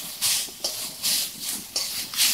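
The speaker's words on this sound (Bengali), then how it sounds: "গাজর দিয়ে হালকা ভাজা ভাজা করে নিচ্ছি যাতে কাঁচা গন্ধটা চলে যায়।" Grated carrot with cumin seeds, chopped green chilli and ginger cooks in a pan with little or no oil, giving about five rhythmic surges of close, loud sizzling hiss as it is stirred.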